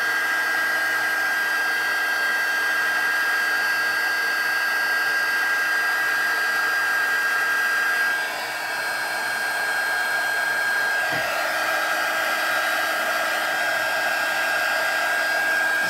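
Steady whirring drone of a heat tool melting embossing powder until glossy, continuous and close for the whole stretch, with a brief dip partway and a faint knock.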